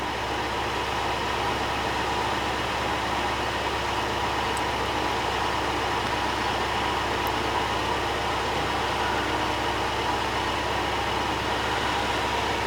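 A 2022 Mercedes-Benz GLE 350 engine idling in a workshop during a front camera calibration, a steady, even drone that holds at constant loudness with no voices.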